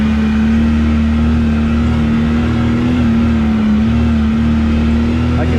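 A 135-horsepower off-road machine on 30-inch tires hums with a steady engine drone at constant pitch, loud and close, holding even rather than climbing in revs.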